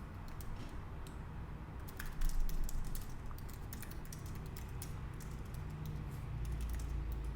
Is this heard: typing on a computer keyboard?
yes